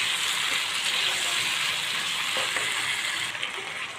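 Chopped tomatoes hit a spice masala with green chilli paste, frying in a steady, loud, close sizzle that runs unbroken throughout, with a couple of faint knocks near the end.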